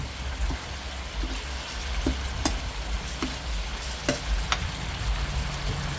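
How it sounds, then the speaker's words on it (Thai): Fingerroot (krachai) stir-frying in a hot pan for a spicy pork stir-fry with cumin leaves, giving a continuous close sizzle broken by sharp spatula taps and scrapes at irregular intervals. "ใส่กระชายลงไปผัดเลยค่ะ"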